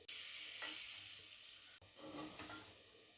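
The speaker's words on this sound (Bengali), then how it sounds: "2 থেকে 3 মিনিট এইভাবে নাড়াচাড়া করে একটু চিংড়ি মাছের মাথাগুলোকে ভালো করে ভেজে নেব।" Prawn heads fry and get stirred in a hot wok, a steady loud sizzle with a short break and scraping stir sounds, close and alone without voices.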